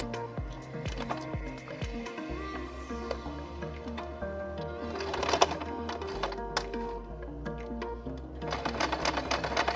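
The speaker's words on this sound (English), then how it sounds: "We sew a straight line, reach this mark, go to the corner, put a fastening." A sewing machine stitches bias tape toward a marked corner, running in short, quiet bursts of rapid mechanical ticking separated by brief pauses and soft clicks, heard close.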